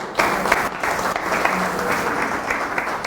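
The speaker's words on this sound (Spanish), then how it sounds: "Doctor, estamos con un aplauso, por favor, para el doctor." A seminar audience applauds a doctor after his talk, a steady wash of many hands clapping at moderate distance that holds evenly for several seconds.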